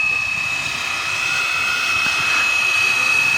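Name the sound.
EC145 scale model helicopter flying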